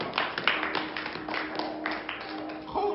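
Applause from a game-show studio audience on an otaku quiz show, with a steady patter of scattered clapping and taps at moderate volume and a little speech mixed in.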